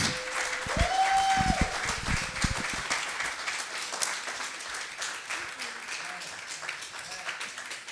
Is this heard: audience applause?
yes